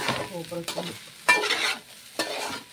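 Chicken fried rice with roasted chicken pieces is stirred and tossed in a pan, giving loud scraping spatula strokes in bursts over a steady sizzle, up close and with no talk over it.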